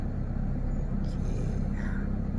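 A manual pickup truck engine accelerates during a driving lesson on a road, giving a steady, close low rumble that holds for the whole stretch, with faint voices underneath.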